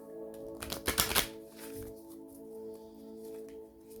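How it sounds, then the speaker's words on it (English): Tarot cards riffled and shuffled by hand in a short, dense burst of rapid flutters near the start, then quiet handling with a steady tonal hum underneath. "I'm trying to get a good shuffle."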